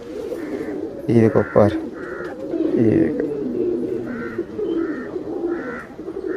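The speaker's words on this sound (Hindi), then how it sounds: "गोल खोपड़ी में बड़े साइज है, रामपुरी कबूतर है" A Rampuri pigeon gives repeated soft, throaty coos at a steady pace, close by. Someone talks over and between the calls.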